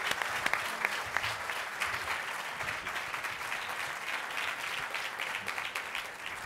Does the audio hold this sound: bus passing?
no